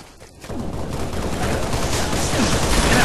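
Shotgun blasts in Halo Reach multiplayer, a sudden loud roar of gunfire that starts after a short quiet moment and stays dense and booming for the rest of the clip.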